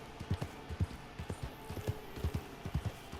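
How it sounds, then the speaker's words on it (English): Horse hooves in Red Dead Redemption Online on PS4, a steady clip-clop gallop with rhythmic thuds and a faint background hum, moderately close. "A squandy nag will come to you if none of your own horse is available."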